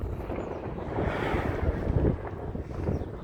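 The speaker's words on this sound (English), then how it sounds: "the wind has to start right when I start recording" Wind buffeting a microphone outdoors in the mountains near Walker, California, a steady low rumbling roar that swells and gusts throughout, loud and close, with no voices.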